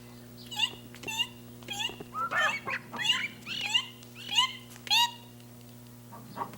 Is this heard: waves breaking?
no